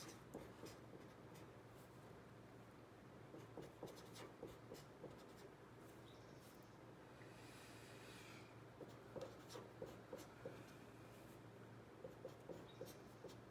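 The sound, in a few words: writing down a polynomial by hand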